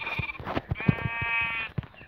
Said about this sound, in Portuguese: Ah, já achei uma ovelha.